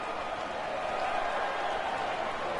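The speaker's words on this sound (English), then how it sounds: "The crowd love it." A stadium crowd in a rugby video game cheers a try, a steady wash of distant roaring noise at a constant level, with no talking.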